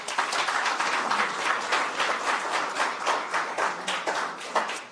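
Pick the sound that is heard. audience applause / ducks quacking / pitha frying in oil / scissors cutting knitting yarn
audience applause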